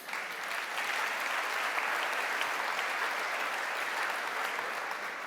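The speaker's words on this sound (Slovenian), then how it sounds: "Dajte si še enkrat zaploskati." A large audience in a hall at a business gathering claps steadily, a dense, even wash of applause that holds at full volume throughout without letting up.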